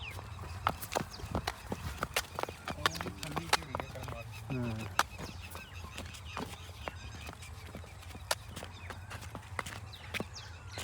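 A Nili-Ravi buffalo's hooves clop and thud irregularly as it walks on hard ground, fairly faint, with low voices and birds in the background.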